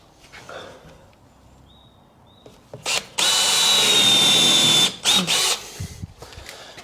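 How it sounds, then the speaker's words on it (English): A power drill bores holes with a Forstner bit while two large windows are installed, starting as a few short bursts and then running loud and steady for nearly two seconds before stopping with brief restarts. "Go around and drill off the holes."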